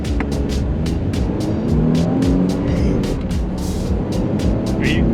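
A 2012 Smart Fortwo small car engine drones loudly from inside the cabin under full throttle, its pitch rising and dropping through gear changes, with a rapid rhythmic ticking running throughout.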